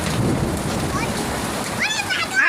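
A hailstorm lashes down with heavy rain, a loud, dense, continuous clatter and hiss close by, while someone talks excitedly over it.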